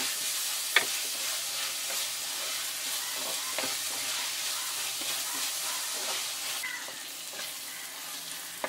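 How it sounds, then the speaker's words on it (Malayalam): Liver sautéing with salt in a pan for a village-style dry roast, a steady close sizzle and frying hiss throughout with a few faint stirring scrapes and no voices. "ഇനി ആവശ്യത്തിന് ഉപ്പും കൂടി ചേർത്ത് ഇതൊന്ന് വഴറ്റിയെടുക്കാം."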